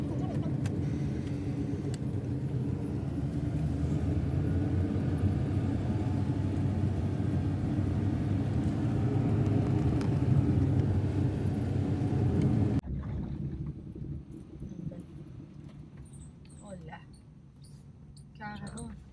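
A car drives along during driving practice, with a steady close engine rumble and road noise for most of the stretch. The noise then drops to a quieter interior hum as the car slows or stops.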